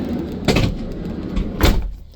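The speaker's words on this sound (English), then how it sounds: "Sliding door operates much nicer than it did before." Two heavy mechanical thuds about a second apart, a Sprinter camper van's sliding door rolling and slamming shut, close by with no voices.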